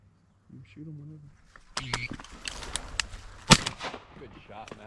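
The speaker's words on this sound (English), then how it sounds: "Good shot, Matt." A single sharp, loud shotgun blast rings out during a mallard duck hunt in the mountains. Hunters talk before and after the shot, and duck-like calls are heard nearby.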